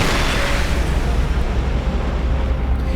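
Anti-aircraft weapon firing in War Thunder, heard as a dense, continuous roaring blast that fills the whole stretch at steady loudness, with no talk over it.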